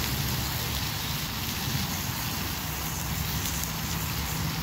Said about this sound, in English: Put a little bit of sear on it.